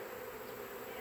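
Steady, dense drone of a honey bee swarm near hives in a yard, a continuous buzzing hum with no breaks, fairly faint and heard alone.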